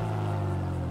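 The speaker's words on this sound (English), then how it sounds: "did you hear the exhaust right there?" A car in GTA 5 Online, one of the Drug Wars DLC vehicles, idles right after its startup, giving off a steady, loud, low exhaust rumble with a constant droning tone and no other sounds.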